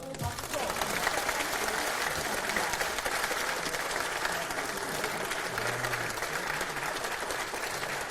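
A crowd of party members applauds at a People Power Party caucus meeting as flowers are handed over, a dense sustained clapping that holds steady throughout, with a voice briefly audible.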